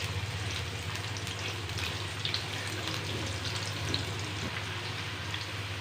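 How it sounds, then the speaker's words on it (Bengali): Cubed onions, about a cup, frying in a pan for a fish roe curry, giving a steady, even sizzle with a watery hiss throughout, no talking. "পেঁয়াজটাকে এখন ব্রাউন করে ভেজে নেব।"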